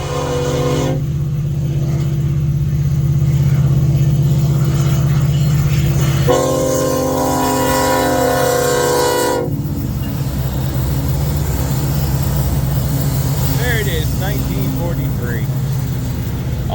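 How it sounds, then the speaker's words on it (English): A freight train on a corn shuttle passes close by, its horn holding loud sustained chords that break off and change pitch, then give way to the rumble and squeal of railcars rolling past, with speech over it. "Gotta love the sound of trains."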